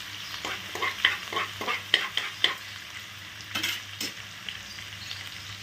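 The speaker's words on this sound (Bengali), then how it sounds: "দিয়ে দিলাম দারচিনি, এলাচ, লবঙ্গ, লো ফ্লেমে ভাজছি আদা আর কাঁচা লঙ্কা" Cinnamon, cardamom, cloves, ginger and green chilli frying in a pan over a low flame, a soft steady sizzle broken by a quick run of spatula scrapes and clinks against the pan, close and clear with no talk.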